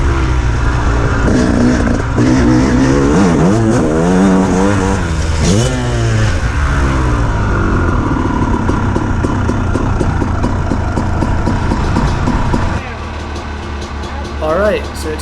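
A new, never-ridden Yamaha YZ400 two-stroke dirt bike on a track, its engine revving loud and close with rising and falling pitch sweeps as it accelerates, then dropping to a lower, steadier drone near the end.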